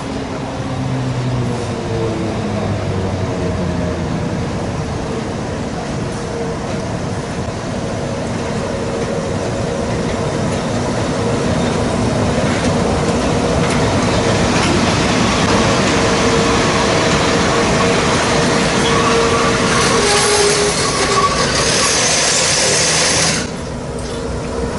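A train hauled by a Czech 'Špageta' locomotive arrives at Česká Třebová, a long steady rumble and rhythmic clatter of wheels that grows louder and closer before cutting off abruptly near the end.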